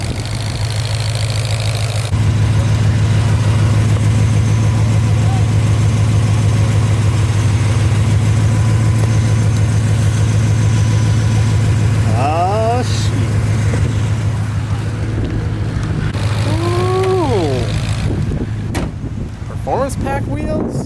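A twin-turbo 2018 Mustang GT idles close by with a steady, loud low rumble, its fuel injectors said to tick loudly, while people talk nearby and a door closes.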